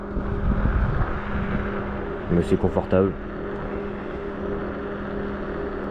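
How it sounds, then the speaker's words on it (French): Knobby off-road tires on an iScooter W12 electric scooter give a steady rough hum and rumble while riding, with a rider speaking briefly over the noise. "les pneus sont un petit peu bruyants vu que c'est du tout-terrain de base"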